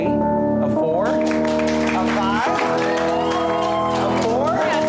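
A live audience at a Saturday night game show erupts in applause, shouts and whoops to score a game, loud and dense throughout, with voices and music mixed in.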